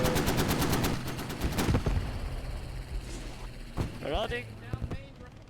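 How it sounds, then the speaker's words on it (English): Rapid machine gun bursts crackle up front in Squad 44 during a World War II battle near a StuG assault gun, dense strings of shots fading into scattered distant fire and rumbling combat noise. "Machine gun fire buttoning up the Stug over there"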